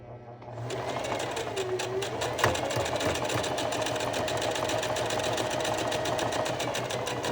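A sewing machine stitches a buttonhole using a button gauge attachment, a fast, steady, rhythmic needle chatter that starts after a brief moment and runs close and loud throughout.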